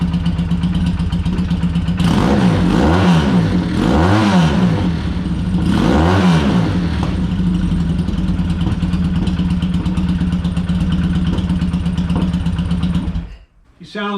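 A used motorcycle engine, with carburetors needing cleaning, runs up close with a loud steady rumble, a few revs swelling and falling, and a slight irregular popping, with someone talking over it before it cuts off.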